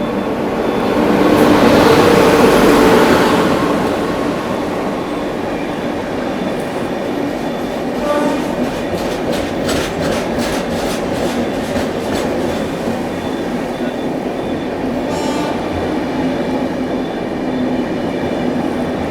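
The Goa Sampark Kranti Express pulls out of Surat railway station during the monsoon, a loud continuous rumble of rolling wheels with rhythmic clickety-clack over rail joints and occasional squeals, close and steady.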